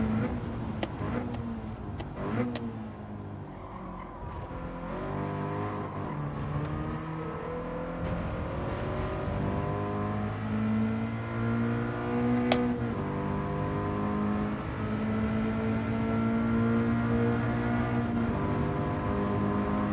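A Toyota race car engine at Suzuka in Gran Turismo 7 revs up and down, with rising and falling harmonic whine, loud and continuous, and no talking.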